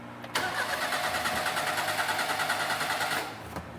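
An old car that has sat unused for years cranks over steadily with a rapid, even churning rhythm for about three seconds, loud and close, then stops without catching.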